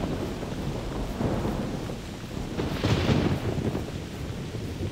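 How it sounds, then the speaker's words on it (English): Thunderstorm in the hunting video game theHunter: Primal, with steady rain hiss and a low rumbling roll of thunder building near the middle, continuous and without voices. "Bit of thunder and lightning."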